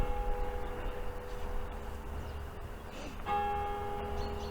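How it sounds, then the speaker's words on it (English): A church bell in the big tower at Montgomery, Wales strikes eleven o'clock, sounding faint and distant over steady outdoor background noise, with a single clear ring near the end. "listen, 11 o'clock chimes"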